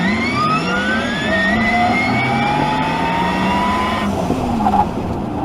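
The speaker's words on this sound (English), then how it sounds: "the electric sport sound. This gives you an almost a kind of a Star Wars speeder type of sound" An electric car's synthetic sport sound, a Star Wars speeder-like tone, rises and glides in layered whistling pitches, loud and close and continuous, before shifting abruptly near the end.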